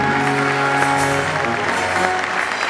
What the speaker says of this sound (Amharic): አጨብጭቡ እንጂ ለጌታ ክብር